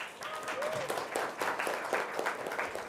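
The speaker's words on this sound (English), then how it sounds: "I would like you to give yourselves a round of applause" An audience at a youth agriculture symposium gives a round of applause, a brief burst of clapping that is moderately distant and fairly soft, mixed with some voices.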